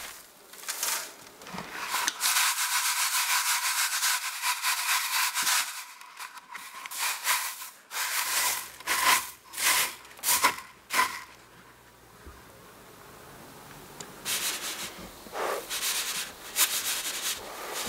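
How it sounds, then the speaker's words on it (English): Spinach seeds are shaken through a fine sieve, giving a dry rustling, rubbing hiss in repeated bursts of shaking with short pauses, close by. "Then use a finer sieve that will retain the seeds and get rid of the dust."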